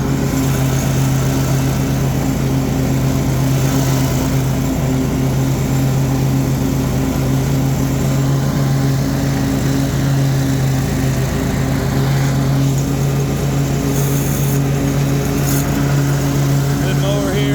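A Toro Titan ZX4800 zero-turn riding lawn mower with a 48-inch heavy-duty deck cuts tall, wet grass, its engine droning loud and steady throughout with a strong constant hum, and a voice speaks over it.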